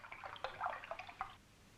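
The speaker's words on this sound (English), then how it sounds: "Pour the water into the glass" Coloured water poured from a jug into a glass gives a short, close splashing trickle with a few drip-like spurts, fading out after about a second and a half.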